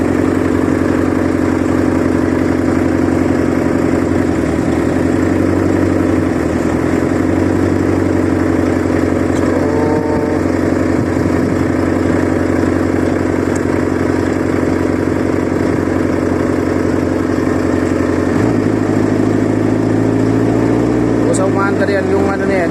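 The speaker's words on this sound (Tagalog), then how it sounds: "yung makina ng refrigerator yan, ng trailer na yan" A refrigeration unit engine on a truck trailer runs steadily at close range on a roadside in Saudi Arabia, a constant mid-pitched drone that never lets up, with a brief clatter near the end.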